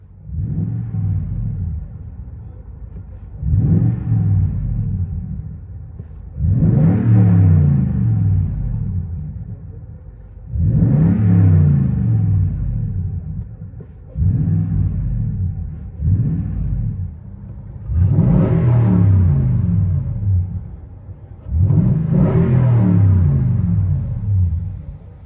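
A Toyota Tundra 5.7L V8 with an aftermarket exhaust, heard from inside the cabin, revs repeatedly. Loud, deep booming swells rise and fall in about eight pulses, with a steady rumble between them and no talk.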